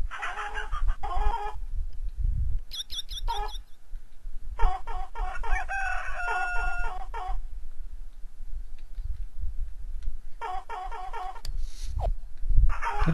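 Chickens clucking and a rooster crowing in the farm setting of The Sims Bustin' Out, several short bursts of calls separated by gaps, fairly close, over a low background rumble with no talk.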